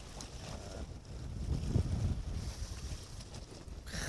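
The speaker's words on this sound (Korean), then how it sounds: "완전히 바람이 불고 있어서 채비 운영에 정말 어려움이 많습니다" Steady wind buffeting and rushing over open water while fishing from a boat, a continuous low roar with gusts swelling in the middle, no speech.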